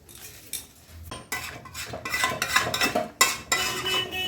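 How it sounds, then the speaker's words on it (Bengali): A utensil scrapes and clatters against a pot while stirring chicken and potatoes, irregular metallic knocks and scrapes building in a steady rhythm, close and clear with no talk. "এবার পুরো আমি মাংসটাকে এখন কষবো"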